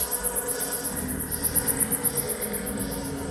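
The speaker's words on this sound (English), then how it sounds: "Locust swarms." Locust swarm sound effect in a Bible museum exhibit, a dense buzzing insect drone with pulsing wingbeat throbs, steady and fairly loud over a low rumbling background, with no talking.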